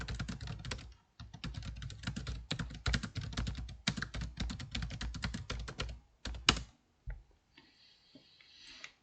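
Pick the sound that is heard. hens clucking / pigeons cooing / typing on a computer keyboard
typing on a computer keyboard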